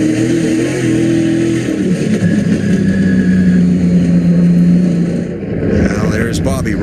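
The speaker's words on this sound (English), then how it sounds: "The engine's not working hard, I can promise you that." A Superstar Racing Experience (SRX) race car engine on track at Sharon Speedway during a 2022 race, a loud continuous drone with shifting pitch as cars pass, under steady commentary throughout.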